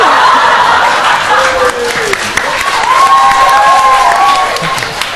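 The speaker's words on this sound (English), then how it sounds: "Feel free to give yourself a round of applause." At a student election question time, an audience breaks into loud, steady clapping mixed with cheers and some laughter right after a sung performance, the crowd noise filling the whole stretch.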